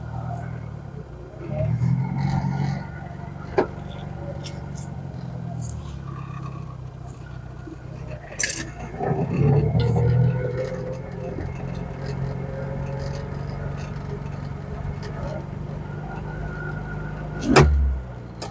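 A Morris car's carburetted engine idles a little high, with speech over it, then revs and pulls away, with a brief door-like thump near the end, close by and fairly steady throughout.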